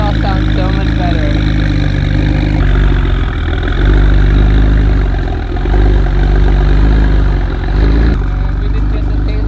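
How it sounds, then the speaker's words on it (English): Ford GT40 engine idles with a muffler bypass exhaust, a steady, loud, deep rumble that holds throughout with slight swells, close by and dominating the sound. "Your exhaust sounds so much better."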